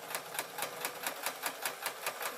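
Sewing machine stitching a jelly roll fabric strip along a tote bag, a quiet, steady rhythmic clatter of needle strokes repeating about four times a second, with no voices.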